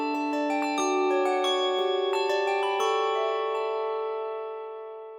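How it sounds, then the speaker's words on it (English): Handbells ring close up, struck one after another in a quick sequence, bright tones overlapping and then decaying into a long fading shimmer. "every single bell has been recorded individually and chromatically"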